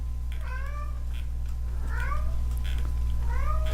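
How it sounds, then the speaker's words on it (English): A house cat meows three times, each call drawn out and clear, spaced a little over a second apart over a constant low electrical hum. "Shut up, cat. Nobody wants to hear you."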